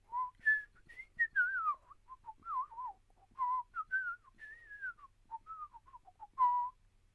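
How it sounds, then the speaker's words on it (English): A person whistles tunelessly as stand-in hold music, a wandering run of rising and falling notes in short phrases, close and clear, with no talking. "For anyone wondering what it means to whistle tunelessly,"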